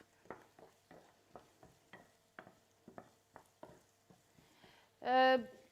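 Onions cook in a pan over a medium-high flame, heard as about a dozen soft, evenly spaced stirring strokes up close. A short burst of voice cuts in at the very end.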